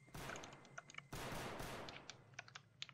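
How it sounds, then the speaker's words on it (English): Rapid bursts of gunfire in the Roblox game SCP: Anomaly Breach, loud and crackling, with sharp individual shots and clicking sounds scattered throughout. "There's gunshots everywhere!"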